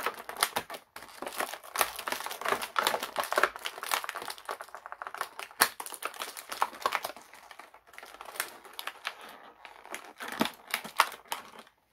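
Close, continuous crinkling and ripping as tape and packaging are pulled off a boxed Freddy Krueger figure, with busy rustling and short tearing bursts throughout.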